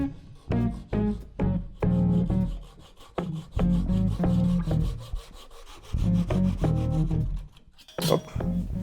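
A handsaw cuts back the wooden legs of a DIY concrete stool in rapid, rhythmic strokes up close, with short pauses between bursts.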